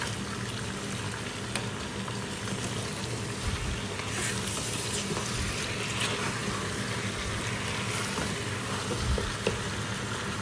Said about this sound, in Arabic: نضيف الموية الساخنة